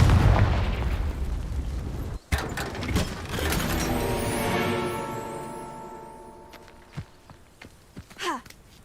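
Confringo blasting spell explosion in the Hogwarts Legacy video game, a loud boom with a rumbling, ringing decay that fades over several seconds, followed by smaller clicks and thuds.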